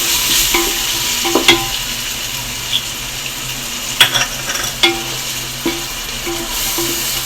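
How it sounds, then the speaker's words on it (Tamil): Onions with ginger and garlic sauté for pulao in a pan, a steady close sizzle broken by scraping stirs and a few sharp metallic clinks from the spoon, with no voices. "நல்லா பச்சை வாடை போடுற அளவுக்கு வதக்கிடுவோம்."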